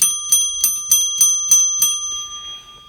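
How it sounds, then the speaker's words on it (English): A small hand bell is rung about seven times in quick, even succession, bright and close, with the last ring left to fade into a lingering metallic tone. "Let me ring the bell to send you off."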